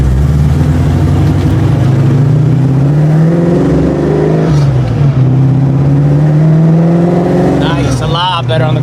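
A 1989 Mustang notchback V8 with a freshly rebuilt carburetor revs up smoothly from idle, its loud engine note rising steadily and falling back, then climbing again in a second sharp rev near the end.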